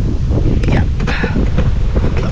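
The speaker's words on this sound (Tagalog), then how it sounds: "Lakas ng hangin ah." Strong wind buffets the microphone outdoors during metal cutting and post work, a loud, continuous roar with gusty surges throughout and no clear talk.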